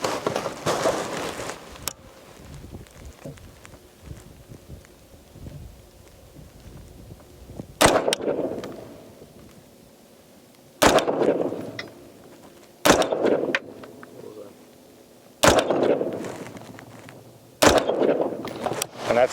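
Rifle with an ACOG optic on quick-release mounts fired at a target outdoors, six sharp loud shots spaced a few seconds apart, each with a short echoing tail, separated by quiet stretches.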